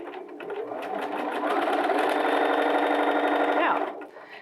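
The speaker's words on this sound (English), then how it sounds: "When I floor the foot pedal right now, I access the full speed of the machine." A Bernina 325/335 sewing machine runs a straight stitch at full pedal speed, a steady fast whirring hum that ramps up, holds for a few seconds, then winds down at the end.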